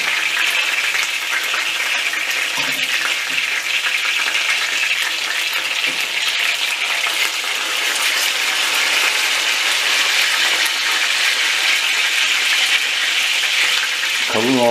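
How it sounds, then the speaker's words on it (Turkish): Marinated chicken pieces frying in a pan of hot oil, a steady dense sizzle lasting throughout at close range, with no talking. "Kalın olanları birazcık daha kızartalım."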